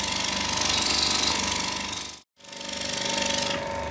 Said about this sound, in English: Nice and quiet motor.